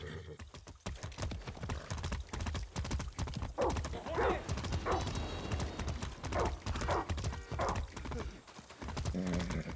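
Horse hooves clip-clop in the game Far Cry 6, a quick, regular galloping rhythm of sharp hoof strikes, close and prominent, with a brief whinny in the middle.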